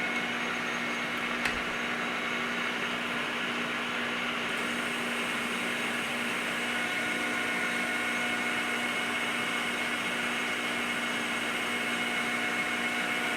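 Metal lathe turning slowly while cutting a die for making copper bullet jackets, a steady continuous motor hum and whine with faint ringing tones, unchanging throughout.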